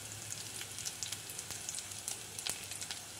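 Mustard seeds and three cut dried red chillies sizzle in oil while tempering for Kerala sambar, a soft, steady fizz broken by scattered sharp pops and crackles, close but fairly quiet.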